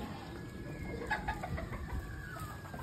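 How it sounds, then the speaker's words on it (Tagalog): A large mother hen clucks softly in a farmyard, a few short close calls over steady low background noise. "Ito ho talaga yung malaking inahin."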